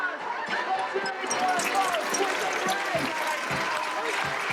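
Studio audience at a televised comedy hypnosis show breaks into loud, sustained applause mixed with cheering and laughter, steady and close throughout.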